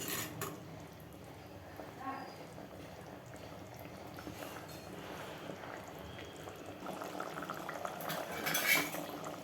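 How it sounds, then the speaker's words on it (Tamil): A pot of tamarind curry (thiruvathirai puli kulambu) with 21 vegetables simmering and bubbling steadily over low background noise, with a couple of faint clinks of utensils and a brief hiss near the end. "ஒரு நிமிஷம் இது கொதிக்கட்டும்."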